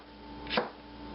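A single crisp knife cut through a sweet pepper on a cutting board, one short close chop in an otherwise quiet room.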